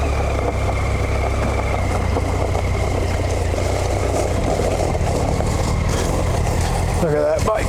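Motorcycle engine running steadily on a dirt trail, a constant close low rumble throughout with voices talking over it.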